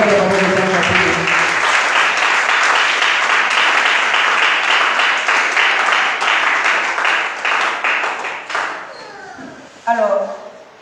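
A church congregation applauds in praise of the Lord, a loud, sustained wall of clapping that goes on for about nine seconds before it thins out and breaks into scattered voices.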